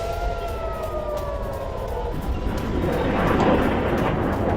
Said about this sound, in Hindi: सायरन बज रहे हैं यहां पर।